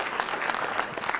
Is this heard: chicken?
no